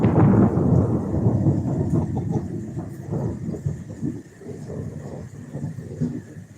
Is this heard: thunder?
yes